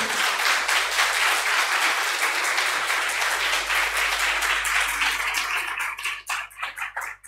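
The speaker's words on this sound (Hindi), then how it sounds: "जोरदार तालियां हो जाए" Loud, dense applause from an audience at a Hindi-language honoring ceremony at an ashram event, as a chief guest is felicitated on stage, sustained steadily then thinning into scattered claps at the end.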